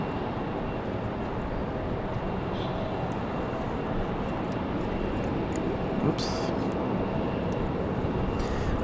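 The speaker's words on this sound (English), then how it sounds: "American Airlines 2615, going to be our next arrival. That's going to be an A321 from Charlotte" An American Airlines A321 arriving at Raleigh-Durham airport produces a steady, broad engine roar that stays loud and even throughout, close and unbroken, with no voices over it.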